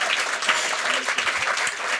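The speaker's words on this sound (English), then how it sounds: "Please, an applause for Yannick." Audience at a science slam event applauding, a loud, continuous wash of many hands clapping throughout.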